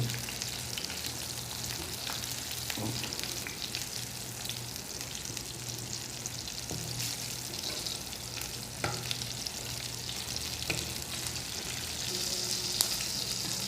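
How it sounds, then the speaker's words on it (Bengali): Carp fish frying crisp in hot oil in a pan gives a steady, fairly soft crackling sizzle with occasional pops and stirring scrapes, continuous and without speech. "মাছটা একটু কড়া করে ভাজে নিছি।"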